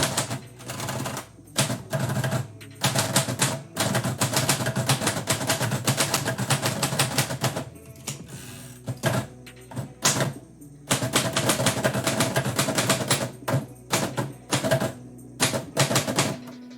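A typewriter clatters through live typewriter poetry in a studio, with rapid bursts of sharp keystrikes broken by short pauses and occasional carriage returns. The typing is close and loud, and no one speaks.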